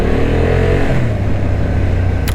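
A Honda Hornet 750 motorcycle engine pulls uphill with a loud, steady drone that climbs in pitch as it accelerates, heard close with no talking.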